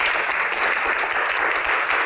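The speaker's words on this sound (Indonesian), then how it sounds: "Tepuk tangan dong." Steady, dense audience applause at a live Q&A event with a crowd clapping together, loud and continuous throughout with no talk over it.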